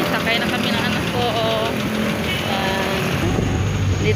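A jeepney engine runs steadily with passengers aboard, a constant loud rumble and rattle filling the cabin while people talk over it.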